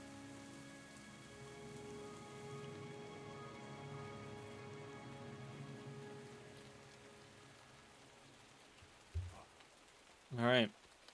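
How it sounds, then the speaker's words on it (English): Heavy rain falls outside in a steady, soft wash that runs throughout, with a couple of brief louder knocks near the end. "it's coming down right now outside. Raining like crazy."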